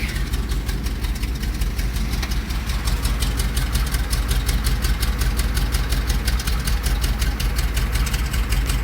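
Old fuel truck engine idling after its spark plugs were cleaned, a steady close, loud rumble with a rapid regular knocking pulse running through it.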